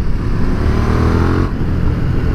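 A KTM 1290 Super Duke R with a new exhaust runs loud and close, its engine holding a deep, rough drone that builds slightly as it accelerates.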